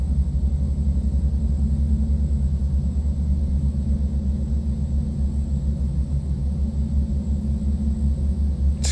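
A Beechcraft 1900D turbine engine starting in X-Plane 11, a loud, steady low rumble with a constant turbine whine that holds evenly throughout, with no voices.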